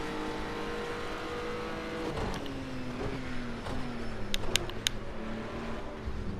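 Racing car engine in a video game, a steady drone with shifting pitch as the car runs, a few sharp clicks and taps near the end, no talking.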